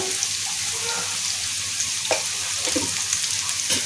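Cut potatoes hitting hot tempered oil in a pan, a steady broadband sizzle throughout with small stirring clatters near the end, close and continuous, no voices.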